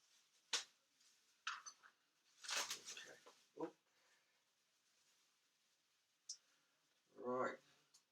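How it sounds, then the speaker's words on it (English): Cardboard packaging holding a tarantula is cut open, giving sharp clicks and short scraping, rustling bursts spaced irregularly over several seconds, close and fairly quiet. "So I'm going to have to cut this out now."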